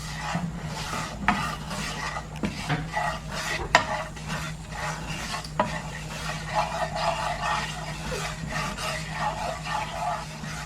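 Semolina is stirred and roasted in a pan over medium-low heat, a spoon scraping steadily through the dry grains with occasional clinks against the metal and a soft, continuous sizzle underneath. No one talks.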